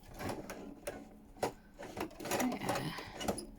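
A sewing machine stitches a paper journal card with hidden pockets, running in short rhythmic bursts with brief pauses between runs, close and moderately loud.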